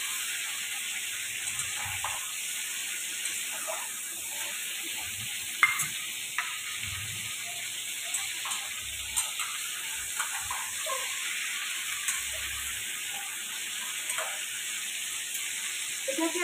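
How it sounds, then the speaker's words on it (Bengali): Crab fries in butter in a pan with a soft, continuous sizzle, broken by scattered faint stirring scrapes and taps. "তো এটা এবার ভাজা হয়ে এসেছে।"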